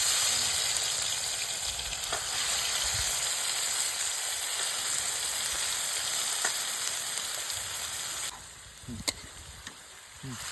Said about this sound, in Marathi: कढईमध्ये मसाला आपण टाकलेला आहे